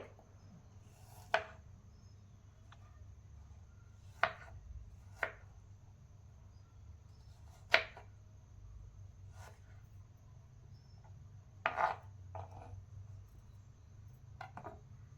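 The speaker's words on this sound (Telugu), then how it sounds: "ఇలానే మనం కట్ చేసి మొత్తం టోటల్ యాపిల్ని జ్యూస్ చేసుకోవాలండి." A knife cuts through an apple on a board for juice, giving a handful of sharp, separate chopping knocks at irregular intervals over a quiet, steady background hum.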